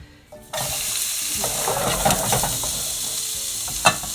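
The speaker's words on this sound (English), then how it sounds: "Good sizzle there." Yakisoba ingredients sizzle loudly in a hot pan, a close, steady crackling hiss that starts abruptly, with a few stirring scrapes and clinks along the way.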